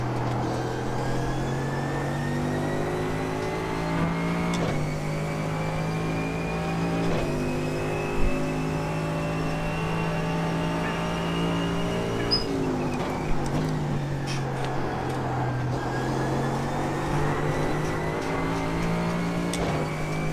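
Mercedes GT3 race car engine from the iRacing driving simulator, running loud and steady at high revs with a few brief dips where gears shift, heard alone without talk.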